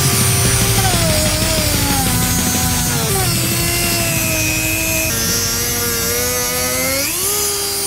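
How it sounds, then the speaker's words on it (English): A Dremel rotary tool carving into a pumpkin gives a continuous high whine with shifting pitch as it bogs and recovers, loud and close, with no talk over it. "The Dremel's not working, so let's try something different, huh?"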